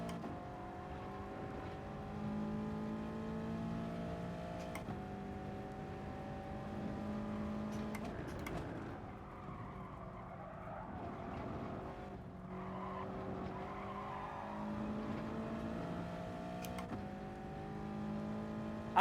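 Race car engine in the GT Sport racing game, a steady sustained drone with shifting pitch through gear changes, moderately quiet and continuous with no talk over it.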